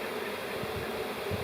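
Honeybees buzzing steadily inside a queenless hive, a dense continuous drone of many wings close by with no voices.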